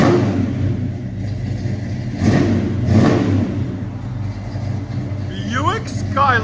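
1970 Buick Skylark V8 fitted with headers and a Flowmaster 40 Series exhaust, rumbling steadily with a couple of revs blipping up midway, close and loud, with some voice-like sound over it near the end.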